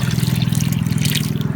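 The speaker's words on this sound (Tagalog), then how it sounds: "So lalagyan po natin ng tubig" Water trickles steadily as it is poured into a chicken's drinker at a backyard poultry setup, a continuous close pour over a low droning hum.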